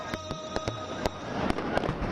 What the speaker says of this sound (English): a spectacular fireworks display lit up the sky, filling the air with joy and devotion